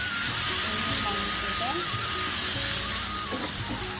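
Mutton sizzling as it fries among already browned onions in a home kitchen for a kosha curry, a steady hiss with a soft crackle that runs the whole time while someone talks over it.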